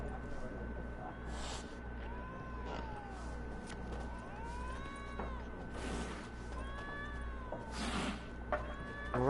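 A cat meows repeatedly in The Witcher 3: Wild Hunt, several drawn-out, rising and falling mews over a steady low background hum, with faint speech-like murmuring in the mix.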